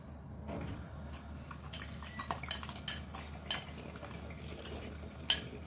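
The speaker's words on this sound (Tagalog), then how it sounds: "Maglalagay tayo ng 5 itlog. Scrambled muna natin." Eggs being scrambled in a hot kawali for sautéed pechay with sardines: a utensil stirs, scrapes and clinks against the pan in sparse, irregular taps over a low background hum, with no talking.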